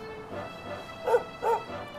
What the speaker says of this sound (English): Hey, puppy. Puppers.